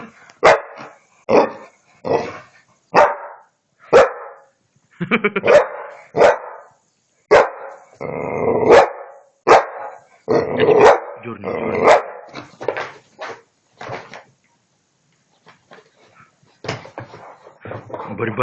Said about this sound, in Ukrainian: Борьба титанов, собака и пылесос.